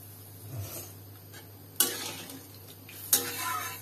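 Boiled potatoes, taro and green chilies cook in a pan of fried spice paste, a soft bubbling sizzle under quiet stirring, broken by two sharp metallic clanks of a utensil against the pan.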